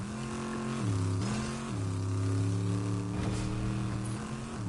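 A car engine in Fortnite hums steadily and loudly at close range, its pitch dipping and rising a few times as the vehicle shifts speed.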